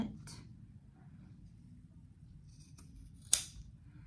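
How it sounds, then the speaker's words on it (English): Scissors trimming the corners of sewn fabric for a bucket hat: a few quiet snips over low background noise, ending in one sharper, crisp cut. "I do sometimes like to trim these cornered edges down just a little bit"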